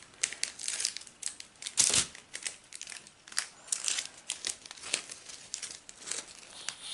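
Crinkly plastic bag holding diamond painting drills being handled and opened, a series of close, quiet crackling and rustling bursts with a sharper crunch near the middle.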